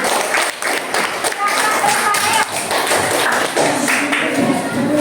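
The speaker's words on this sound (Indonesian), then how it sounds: "Oke, tepuk tangan untuk kelompok 5 nak." Classroom applause for a presenting student group, a brisk burst of many hands clapping close by, with uneven taps and thumps, while a teacher's voice speaks over it.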